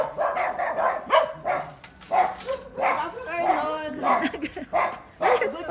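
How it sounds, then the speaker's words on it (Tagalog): Several dogs barking and yipping in short repeated bursts, fairly close, with people talking over and between the barks. "Ang gaganda ng aso,"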